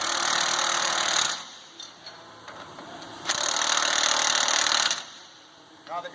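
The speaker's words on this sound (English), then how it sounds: "Then go ahead and tighten up both bolts." A hand tool tightens bolts on a roller mill bearing, with two loud sustained bursts of rattling mechanical noise separated by quieter handling clatter.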